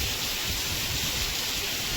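Heavy rain pours down on a village during a flood-like downpour, a steady, dense hiss of falling water without pause and with no voices.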